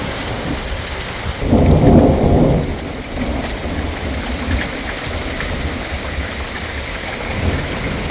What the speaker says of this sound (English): here comes a brief thunderstorm. Sunshine and rain all at the same time